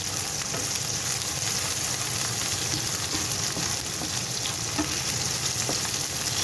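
Peppers, onions and a little chilli fry for a chicken tikka curry, giving a steady, dense sizzle close by with occasional stirring clicks, continuous and without talk.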